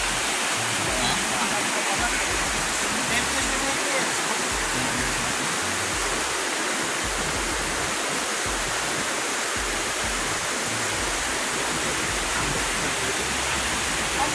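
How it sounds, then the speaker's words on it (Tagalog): The wide Singaran river flows past in a continuous, loud, even rush of water like a waterfall, close by, with voices faintly present under the steady roar. "Sobrang lapad ang ilog dito sa Singaran."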